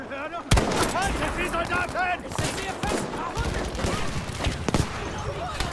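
Rapid gunfire in Battlefield 5, including shots from a Model 27 rifle, cracks in bursts and single sharp reports, with a voice speaking over much of the action.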